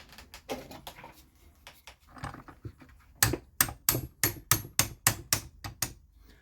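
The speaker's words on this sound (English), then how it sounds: "Hammer." A hammer strikes parts of a ported clone 372XP chainsaw during repair: soft scattered taps and handling at first, then about ten sharp, evenly spaced metallic blows, loud and close.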